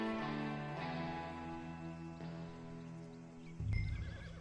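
Horse in the Red Dead Redemption 2 video game gives a long, tonal whinny that wavers in pitch, followed by a few soft hoof clops and a low snort near the end, loud and close.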